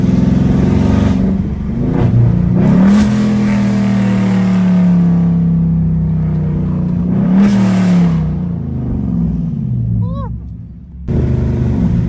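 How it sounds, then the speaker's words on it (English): A loud Dodge Charger Scat Pack V8 engine revs and drops in pitch through repeated downshift throttle blips, close by, with brief quieter gaps and a voice speaking partway through. "Let me give y'all a good downshift."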